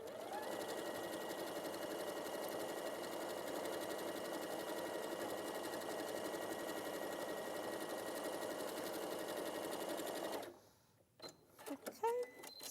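A sewing machine runs continuously while stitching a seam, a steady close mechanical whirr for about ten seconds, then it stops abruptly and a few faint handling clicks and rustles follow.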